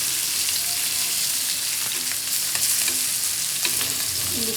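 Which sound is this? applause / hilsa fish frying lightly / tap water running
hilsa fish frying lightly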